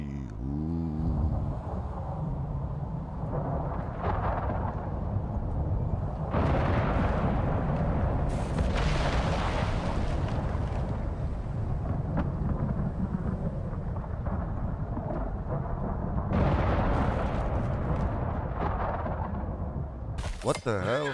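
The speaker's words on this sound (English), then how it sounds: "The storm is there." A storm in the survival video game Icarus gives off a continuous deep rumble, with louder thundery surges and crackling bursts rolling through the whole stretch.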